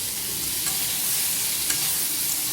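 Pointed gourd and potato pieces frying in a pan, a dense, steady close sizzle with a couple of brief scraping stirs, no talking.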